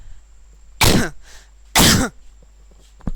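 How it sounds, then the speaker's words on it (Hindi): Two loud, harsh coughs with throat clearing from a lecturer during a Hindi-language biology lecture, close to the microphone, separated by a short pause, followed by a small click near the end. "खांसी आ रहा है।"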